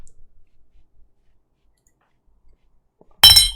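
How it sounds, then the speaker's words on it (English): After near silence, a glass of water knocks against a coffee cup in a single sharp, loud clink with a brief ringing rattle right at the end. "The glass of water and the cup of coffee had a dispute."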